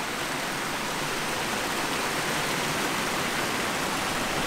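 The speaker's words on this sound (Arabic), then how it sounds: "شوفوا شلال وين واصل" A mountain waterfall roars in an even, unbroken wash of white noise, steady and full from start to finish, with no voices or other sounds rising above it.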